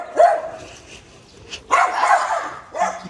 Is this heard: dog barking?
yes